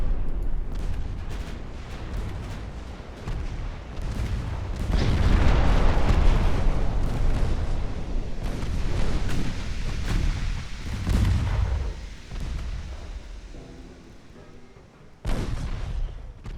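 Torpedoes striking and sinking a battleship in the naval strategy game Ultimate Admiral Dreadnoughts, with heavy rumbling booms and explosions swelling and fading, ending in a sharp late blast.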